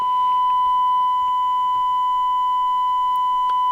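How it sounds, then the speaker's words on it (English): Steady 1000 hertz sine test tone played back from a YouTube video at -3 dB, a clean continuous pure beep held unbroken for the whole stretch, loud and alone. "I want this 1000 hertz frequency test tone."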